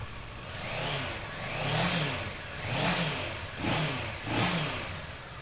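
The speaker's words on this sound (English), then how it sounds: "We'll give it a start for you." A 2017 Kawasaki Versys 650 Special Edition grand tourer motorcycle engine runs close by, revved about four times in smooth swelling blips that rise and fall over a steady idle.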